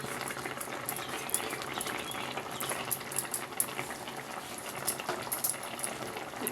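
A Telugu fish tamarind curry with raw mango pieces and asafoetida simmers in a pan, a steady soft bubbling with faint sizzling and occasional small pops, with no talk.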